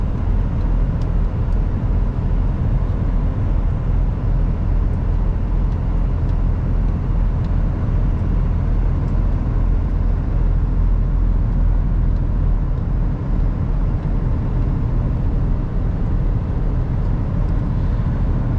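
A truck climbs a hill on a European road, its engine and road noise forming a loud, unbroken rumble heard from inside the cab for the whole stretch.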